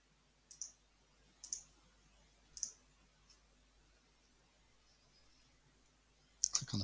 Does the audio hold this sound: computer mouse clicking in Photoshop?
yes